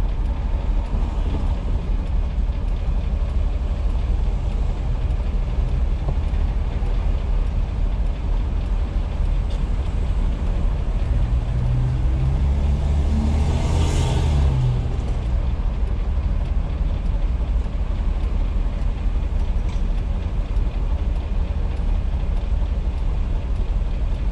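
An old Springfield Phantom 1 rolls through heavier town traffic, giving a steady broadband drone of engine and road noise with a brief louder swell partway through, no voices.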